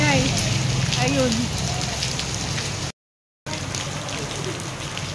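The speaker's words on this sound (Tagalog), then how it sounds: "Biglang lumakas yung ulan habang ano na kami, tumatakbo na." Heavy rain pours down steadily on a street on Christmas Day, a dense broadband hiss that stays loud throughout, broken by a brief dropout near the middle, with faint voices underneath.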